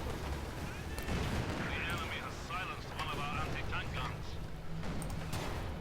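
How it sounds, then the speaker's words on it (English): Katyusha rocket artillery firing in the World War II strategy game Company of Heroes 2, a dense, continuous rumble of launches and blasts under steady battle noise, with a commentator talking throughout. "Katusha is firing."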